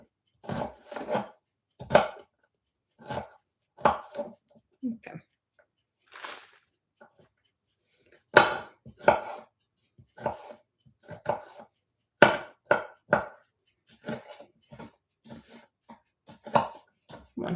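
Knife chopping an onion on a board in a home kitchen while making spaghetti, a series of irregular chops with short pauses between bursts, and voices talking in between.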